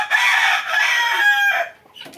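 Tiger breed chickens at a poultry farm in Bakshiganj, Jamalpur, crowing and clucking loudly and continuously for about a second and a half before fading to quieter sounds.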